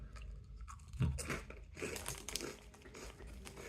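Someone crunches and chews Flamin' Hot Funyuns onion-flavoured rings close to the mic, with a series of brittle, dry crunches followed by softer chewing. The sound is fairly quiet, with no talking.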